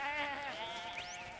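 Cartoon sheep bleat in a short, wavering, quavering cry, a single close bleat rising at the end, with no talk over it.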